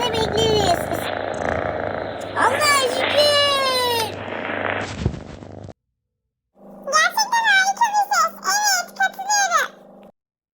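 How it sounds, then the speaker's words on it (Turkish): A cat purrs close up in a steady, rumbling run broken by a few meow-like cries, then stops; after a short silence a voice speaks in choppy bursts. "Kedi mırıltısını bir kez daha dinledim."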